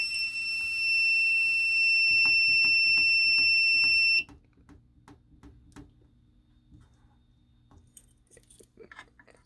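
A Fire-Lite and Simplex fire alarm system sounds loudly, a continuous high electronic tone joined by rapid repeated strobe-like pulses, then cuts off abruptly, leaving faint clicking and ticking from the panel.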